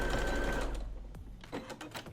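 A sewing machine top stitching a fitted fabric face mask, running in a steady rapid whir close by, then slowing and breaking into a few short stop-start bursts.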